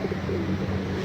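Pigeons coo in a crowd at a pigeon park beside a mosque, a low continuous murmur of overlapping calls with a steady background bed, fairly close.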